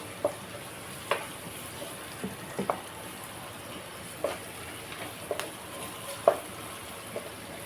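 Ginger and brinjal curry frying in a pan, a low steady sizzle broken by scattered small pops and crackles. It stays soft and close, with no talking.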